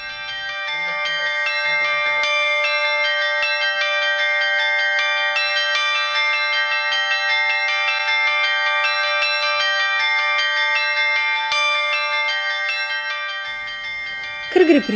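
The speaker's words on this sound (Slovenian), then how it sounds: "Pritrkovalci se pogosto učijo na miniaturne zvonove." Miniature bells struck for bell-ringing practice give sustained, shimmering metallic tones. Overlapping strikes ring on steadily at an even loudness, then fade near the end, where a brief voice cuts in.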